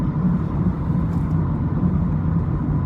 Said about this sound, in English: Are you driving off the road on purpose?